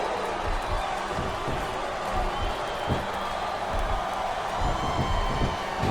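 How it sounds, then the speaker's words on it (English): A wrestling arena crowd chants and cheers throughout a Matt Hardy versus Lita match in WWE SmackDown vs Raw 2007, a steady dense roar with occasional thumps and slams. "I'm not sure I agree with what the crowd is chanting, JR, but I guess it's their right."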